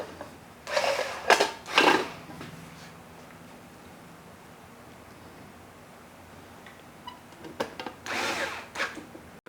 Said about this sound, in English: Then just tighten down your nylocks after you get those 2 in.